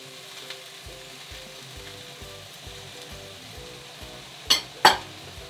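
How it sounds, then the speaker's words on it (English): Leeks frying in a pan, a faint steady sizzle under a low hum, followed near the end by two sharp clinks of utensils against the pan. "There we go with the leeks, sizzling away"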